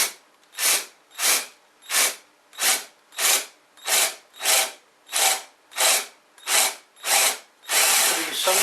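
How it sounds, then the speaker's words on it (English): Power drill boring through material with a larger bit for an Arduino CNC build, heard as about a dozen evenly spaced loud bursts, each a rising whine that stops, then a final sustained run near the end. "Putting some pressure on the drill as you're doing it."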